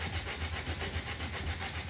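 Timber is hand sanded with sandpaper wrapped on a cork block for a race car project, close, steady back-and-forth rasping strokes at a quick even rhythm with no voices.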